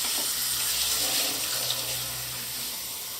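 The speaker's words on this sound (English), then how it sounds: "just a real short rinse with some water" Water rushes and splashes steadily into a film developing tank during a short rinse, a dense, hissing pour that stays close and even throughout, with no talking.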